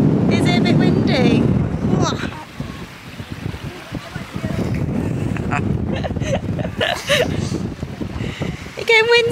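Wind buffets the microphone in steady low rumbling gusts at a beach in Norfolk, UK, while people talk nearby, with soft surf-like wash underneath.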